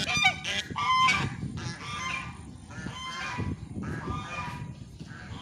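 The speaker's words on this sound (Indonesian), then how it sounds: "Oh, ada angsa ya." Geese at a university agricultural faculty campus in Papua honk repeatedly in overlapping nasal calls, loud and fairly close, continuing throughout over outdoor background noise.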